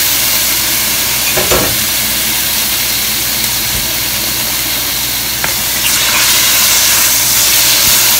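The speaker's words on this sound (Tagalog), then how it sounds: "first, I have to stir fry the liver. This is pork liver." Pork liver stir-frying in a pan gives a loud, steady sizzle over a constant roaring hum, with occasional clinks of the utensil against the pan.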